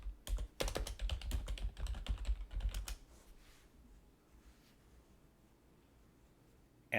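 Rapid clattering keystrokes on a computer keyboard for about three seconds, close and fairly quiet, then faint room hiss with no talk.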